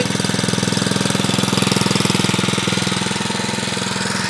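George Smith's engine, with hydrogen and oxygen from electrolysed water piped into its air intake, runs close and loud with a rapid, even knocking chug that holds steady throughout, no voices over it.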